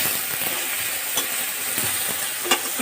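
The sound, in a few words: stirring jujube fruits frying in a pan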